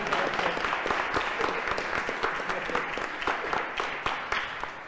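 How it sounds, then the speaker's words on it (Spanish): A congregation applauds during a youth homily in a parish, a lively burst of many individual claps heard clearly and close, with no talking over it. "le damos un aplauso también"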